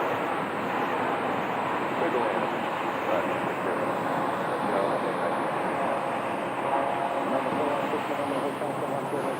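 Airplane departing from Phoenix Sky Harbor airport runway, a broad steady jet roar heard at a distance and holding level for several seconds, with no talking.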